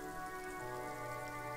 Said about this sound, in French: Et la pluie qui tombe sur le monde.